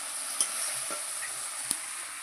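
Fish frying in a pan give off a steady close sizzle, with a few sharp clicks and soft taps as the pieces are stirred or turned, and no voices.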